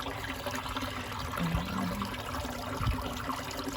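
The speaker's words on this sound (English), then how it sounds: "Creek that drained the water, but it is a natural creek." Water in a natural creek that once served as a drainage ditch flows and trickles continuously at close range, a steady rushing wash with no voices.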